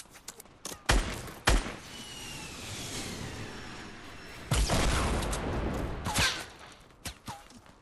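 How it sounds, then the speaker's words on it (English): Scattered gunshots from a Fortnite gunfight, a few loud sharp bursts separated by quieter stretches of background game noise, with one longer burst midway. "This is not the time to be in gunfights right now."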